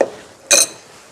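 A lid is set onto a pot of sliced carrots with water and butter, making one short, bright clink that rings briefly against otherwise quiet surroundings.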